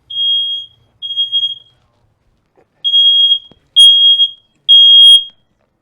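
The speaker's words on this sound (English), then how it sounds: "Where's the smoke detector?" A high-pitched smoke alarm beeps in five bursts in a kitchen after chicken is cooked, each about half a second long. The beeps come close and loud, with short silent gaps between them.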